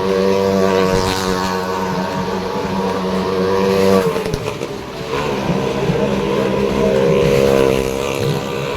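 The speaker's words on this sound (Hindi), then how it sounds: "मौत का कुआं, मौत का कुआं।" Vehicles roar loudly and continuously inside a well of death stunt show at a fair in Bhopal, engine revs rising and falling with a brief dip midway, close and dominant with no talk.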